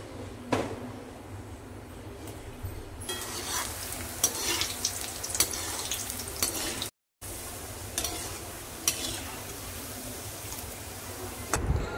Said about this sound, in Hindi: तेल आता चांगलं तापलंय। आता आपण शंकरपाळी तळायला घेऊया।